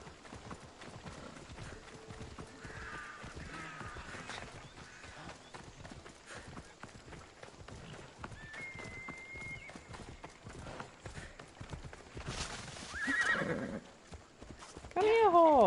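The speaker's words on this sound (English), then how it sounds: "Come on, horse. Teleport next to me" Horse in the Assassin's Creed Odyssey video game galloping with steady rapid hoofbeats, then a loud whinny near the end, under game ambience and a person talking.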